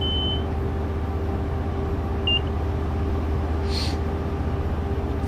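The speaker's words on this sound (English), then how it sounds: "You hear the beep, I'm just going to hit the B button." A short high warning beep sounds in the cab of a train in Train Sim World 6 as it climbs a hill at full power, sitting over a steady, loud engine and rail rumble.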